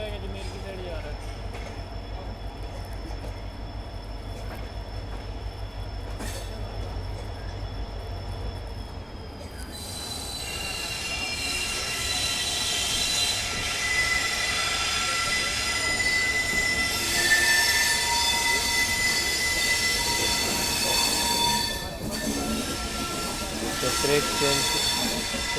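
The Rajasthan Sampark Kranti Express slows to change track, its steady rolling rumble joined by loud, sustained metallic wheel squeals and clatter from the rails, heard close up without any talking.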